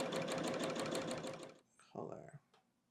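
A sewing machine stitches a quarter-inch seam on a quilt block in a rapid, even chatter of needle strokes up close for about a second and a half, then stops, followed by faint handling sounds.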